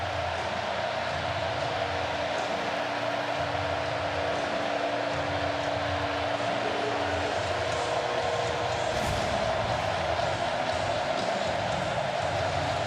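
Stadium crowd noise from an NCAA Football 2019 game, Texas State at Texas A&M, a steady, dense roar that holds at a constant level throughout, with no clear peaks.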